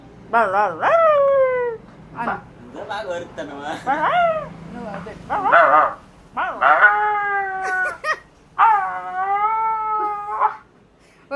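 A person imitates a puppy's barking with a run of high, yelping cries in quick bursts, close and fairly loud, over about ten seconds.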